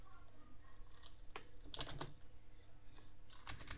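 Keys clatter on a computer keyboard in short irregular bursts of taps, fairly close and faint, with no talk over them.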